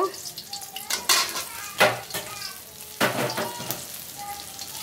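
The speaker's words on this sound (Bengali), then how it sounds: "আমি এক পিস মাছ ভেজে আর এই আলু ভেজে আমার ছোট মেয়েটাকে ভাত দিব" Fish and potato pieces frying in oil in a pan, a steady close sizzle broken by several louder bursts of spattering and scraping as the pieces are turned, with no talk.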